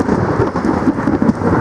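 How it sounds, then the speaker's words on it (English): A thunderstorm on the Appalachian Trail, heavy rain drumming steadily on a nearby surface with deep rumbling thunder rolling underneath, loud and close throughout. "So while this thunderstorm makes a lot of noise,"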